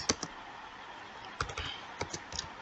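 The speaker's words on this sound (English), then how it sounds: "let's go back to our working space and type our subject" Keys tapped on a computer keyboard while a subject line is typed into Gmail: a few quiet, scattered clicks in short clusters with pauses between them, close and alone.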